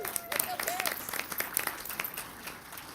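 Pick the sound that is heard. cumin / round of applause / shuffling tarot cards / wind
round of applause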